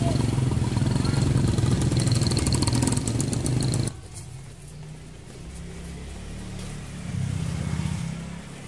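A motorcycle engine runs nearby in a house's front yard, loud and steady, then drops quieter before building again near the end, with voices faintly mixed in.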